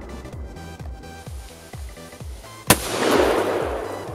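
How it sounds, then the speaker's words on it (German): A single sharp rifle shot from an SWD rifle into modelling clay cracks out near the middle, followed by a rushing wash of noise, with a rhythmic thumping pulse running underneath beforehand. "Schießen noch einmal."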